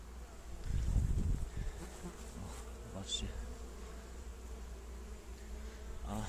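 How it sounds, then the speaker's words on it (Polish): Honeybees buzz steadily at a hive entrance on a mid-morning, many returning loaded with pollen. A dense, continuous hum sounds close by, with one louder bee briefly droning near the microphone. "Dużo pszczół wraca z odnóżami."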